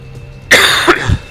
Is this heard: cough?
yes